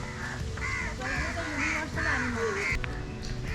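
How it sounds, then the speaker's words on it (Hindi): Several crows caw in repeated harsh bursts at Indroda Nature Park in Gandhinagar, near the botanical garden, the calls moderately close and overlapping against steady outdoor background noise. "कौवे हैं बहुत सारे यहाँ पे।"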